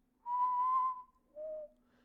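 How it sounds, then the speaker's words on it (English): A low two-note whistle sounds in a quiet audiobook scene, a long steady tone followed by a shorter lower one, clear and fairly soft over faint background hum. "a little low whistle sounded a good way off upon the hill"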